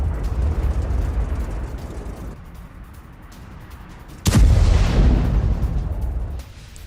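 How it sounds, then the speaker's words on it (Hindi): Heavy, sustained rumbling roar from bombing in Tehran, with a sudden loud blast midway that swells and then slowly fades, low and distant-sounding throughout. "तेहरान में सुने गए हैं कई धमाके।"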